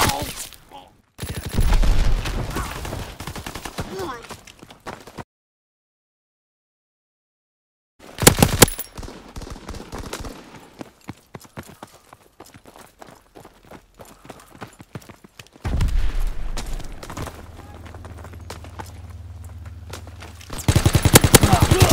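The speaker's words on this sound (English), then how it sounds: "Stehe unter schwerem Beschuss!" Heavy gunfire in Call of Duty: WWII multiplayer, bursts of rapid machine-gun rattle broken by a silent gap, with game voice callouts and a low droning hum later.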